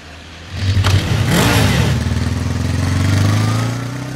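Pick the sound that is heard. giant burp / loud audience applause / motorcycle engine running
motorcycle engine running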